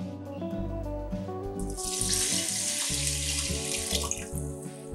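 750 ml of water pours steadily into a pot of washed rice, a close splashing rush that rises in pitch as the vessel fills, over a background of music.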